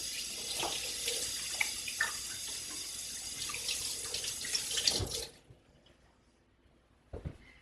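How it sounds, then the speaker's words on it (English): Tap water running at a kitchen sink while hands are washed, a steady close splashing stream that cuts off abruptly, followed by quiet and a couple of wet handling noises. "Wash my hands real quick."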